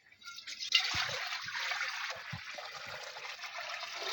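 Water poured into a cooking pan, a steady hissing stream that starts abruptly and continues evenly, close and fairly quiet with a few faint knocks underneath.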